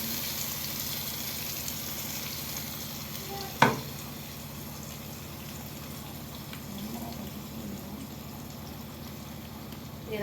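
Mustard seeds sputter in hot oil for a coriander chutney, giving a steady, soft sizzle with faint crackles and one sharp pop partway through.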